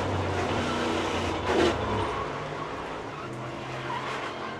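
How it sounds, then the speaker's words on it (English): A NASCAR Cup Series race car skidding during the Coca-Cola 600, tires squealing under loud steady engine roar with a brief swell of impact noise midway. "Not sure how badly that car is hurt from the sound of the impact."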